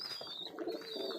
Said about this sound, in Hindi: कबूतर अभी दाना खा रहे हैं, इनको फिर खिलाएगी।